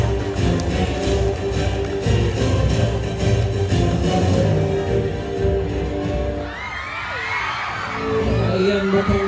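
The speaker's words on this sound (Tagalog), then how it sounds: "Ay, palakpak naman na dyan!" A loud crowd at a town foundation celebration in Rizal cheers, whoops and yells for an acrobat's act. The noise is dense and continuous, with shrill shouts rising near the end.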